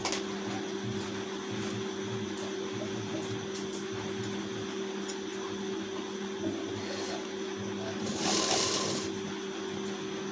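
A sewing machine runs steadily while a blouse sleeve is stitched along its armhole seam, a continuous mechanical hum with a brief louder burst near the end and no talking.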